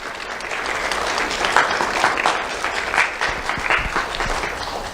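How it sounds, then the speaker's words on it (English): A crowd at a sheriff's office awards ceremony gives a round of applause, dense continuous clapping that swells slightly in the middle and stays fairly loud throughout. "Let's have a round of applause for our civilian support unit."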